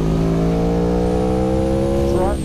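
An Aprilia motorcycle engine revving at three-quarter throttle on a mass damper test, a loud, steady, close drone whose pitch climbs slightly before dropping away near the end.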